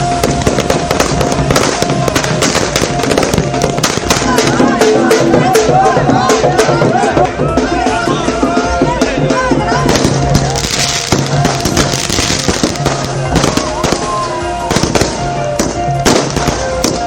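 Firecrackers burst during festive celebrations in Gujarat, loud sharp cracks and rapid popping volleys crowding one another over a constant background roar, with crowd noise and voices mixed in.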